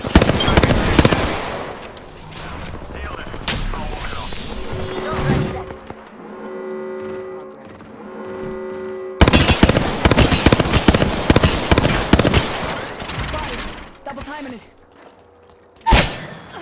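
Rapid bursts of automatic gunfire and sharp shots ring out in an Apex Legends match, loud and dense at first, pausing for a quieter stretch with a tonal hum, then erupting again with heavy volleys and a final burst; game voices speak over parts.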